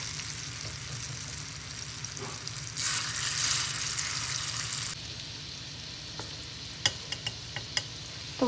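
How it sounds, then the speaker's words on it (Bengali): Bora fritters frying in oil, a soft steady sizzle with a louder burst of crackling for a couple of seconds, then a few sharp clinks of a utensil. "তো বন্ধুরা, এবার আমি বড়া ভেজে নেব"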